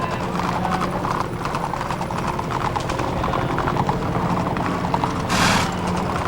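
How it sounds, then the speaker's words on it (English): Parade horses clip-clop steadily along the street at a 1999 Days of '47 parade in Utah, hooves close and busy, with a brief snort or breathy burst near the end over a constant crowd and street murmur. "Now that is up close and personal when you can hear the horses snorting right on TV."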